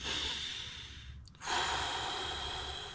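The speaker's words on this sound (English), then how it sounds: "I was the only one like doing these deep breaths." A person breathes deeply and audibly, with a long close exhale, a short pause, then a strong inhale rushing in and holding, in a quiet room with no talk.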